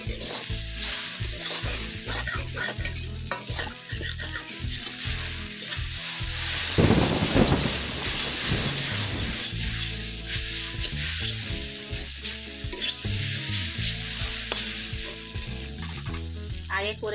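Chicken chowmein with egg is stir-fried in a pan at home, a continuous sizzle with scraping and tossing of the noodles throughout, loud and close, rising briefly midway as the food is mixed.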